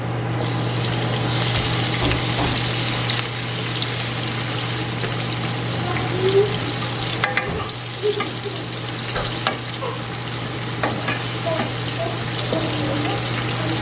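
Onions, leeks and celery fry in a pan with a steady, dense sizzle throughout, punctuated by occasional clinks and scrapes of stirring and a low constant hum in the background.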